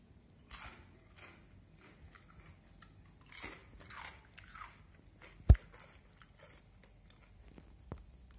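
Crisp bites and crunchy chewing of a white-corn snack from Kupang, close and dry, several separate crunches spread out with quiet gaps and one sharp loud snap near the middle.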